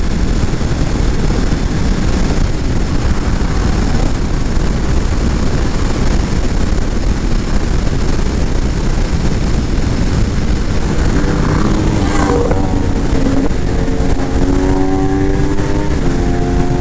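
A 2022 Indian Scout Rogue motorcycle cruises at higher speed, heavy wind buffeting roars constantly over the rumbling engine from the rider's position, with a brief rise in engine pitch near the end.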